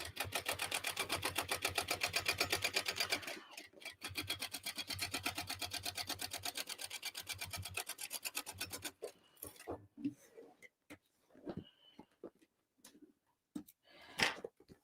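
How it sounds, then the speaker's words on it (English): A sewing machine runs a tote bag seam at a rapid steady stitch rhythm for several seconds, pauses, starts briefly again, then gives way to scattered handling clicks and rustles of fabric. "I am now just going to sew this at 3/8"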